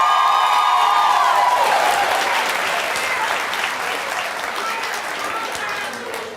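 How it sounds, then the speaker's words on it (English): The studio audience of The Steve Wilkos Show, a television talk show, claps loudly and continuously, a dense wash of close applause that slowly fades a little. "you hear the audience applauding for you"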